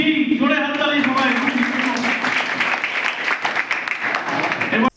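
A school audience gives loud, sustained applause for winning group E at a road safety week event. A voice is heard briefly at the start, then dense clapping fills the rest of the clip before stopping abruptly.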